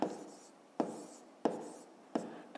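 A pen scratches on paper while a maths answer is written down, in four quick bursts of strokes at close range.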